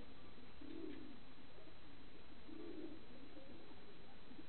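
Domestic pigeons cooing in two low, rumbling bursts with a quieter coo between them, faint and muffled against steady background hiss, with some agitation among males.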